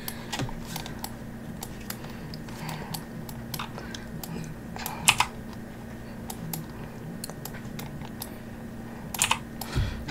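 Computer keyboard typing while playing Roblox Theme Park Tycoon 2: scattered clusters of quick, close key clicks come in short bursts over a low steady hum, with pauses between them.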